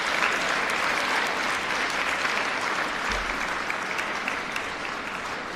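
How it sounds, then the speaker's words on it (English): Audience at an award ceremony applauding two school deans, a steady, dense round of clapping from many hands that holds evenly throughout without any talk. "I just wanted to give a round of applause to Mr."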